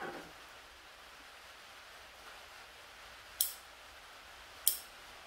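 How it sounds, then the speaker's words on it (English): Two sharp, crisp snips of pruning shears cut a weak inner branch from a bottlebrush bonsai, spaced about a second apart against quiet background hiss. "chop this weak inside one off"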